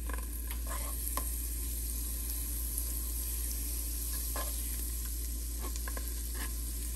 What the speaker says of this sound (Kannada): ಇದಕ್ಕೆ ಸ್ವಲ್ಪ ಬಟರ್ ಹಾಕ್ಕೊತಾ ಇದ್ದೀನಿ